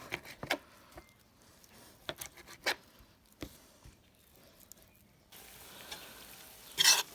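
Onions stew in a pan for a Cossack kulish, giving soft sizzling and scattered clicks and stirring scrapes, with a louder hiss near the end and a sharp clatter at the close.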